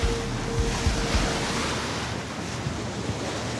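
Open-water waves and surf wash against a boat on a windy day, heard as a broad, steady rush with buffeting wind noise on the microphone and a faint engine hum early on.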